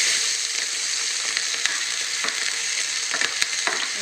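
Onions frying in hot oil for mushroom manchurian, a steady close sizzle with scattered crackles and pops throughout, no voices.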